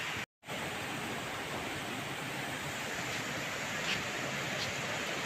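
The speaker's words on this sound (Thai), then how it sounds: "มีน้ำตกไหลครับด้านข้างมีน้ำตกไหล" A continuous broadband rush of a waterfall at Tham Bon in Ubon Ratchathani, flowing beside a small curved steel bridge with a wooden deck, steady and close with a brief dropout near the start.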